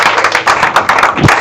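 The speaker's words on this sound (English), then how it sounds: "It's a good place to clap." An audience at an advertising masterclass claps in a brief burst, quick overlapping hand claps at a brisk, fairly even rhythm, loud and close.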